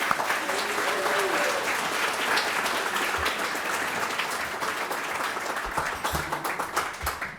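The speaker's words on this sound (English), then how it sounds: "Another round of applause for our inductees." A crowd applauds Hall of Fame inductees at a Swarthmore Athletics ceremony, steady, moderately loud clapping that swells slightly toward the end with a few sharper individual claps, and faint voices underneath.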